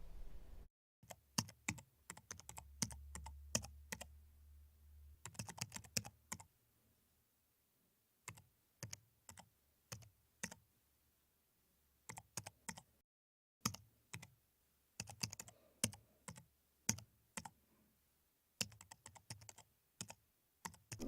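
Computer keyboard typing in sharp, close bursts of clicking keystrokes separated by brief silences, steady and fairly quiet, with no one speaking.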